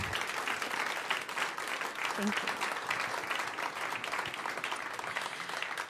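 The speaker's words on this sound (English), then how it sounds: "Can we just give another round of applause?" Audience applause at a jazz festival, dense and steady throughout, with a brief spoken thanks partway through.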